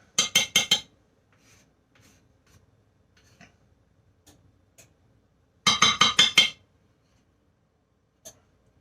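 An offset spatula works at a pan holding caramel pound cake batter. It produces two quick bursts of about five sharp metallic clinks each, with a lone clink at the end and near-silence between.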